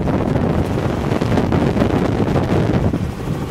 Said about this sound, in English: Stuck my head out the door there. It was a little windy.